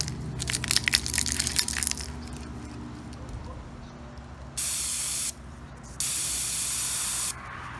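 Aerosol lubricant spray for loosening a tyre during a DIY tyre-removal job: two sustained, loud hissing bursts of about a second each, preceded by rustling and clattering handling noises.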